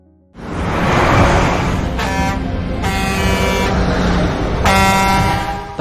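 Speeding truck in a thriller film scene, a loud close engine roar that rises suddenly and holds, with two long blasts of an air horn blaring over it.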